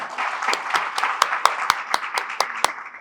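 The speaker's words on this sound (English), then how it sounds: "it calls for a big round of applause" Clapping breaks out at a farewell party for India's Consul General in New York: a series of sharp, evenly spaced claps stands out nearby above a murmuring crowd, steady for about three seconds.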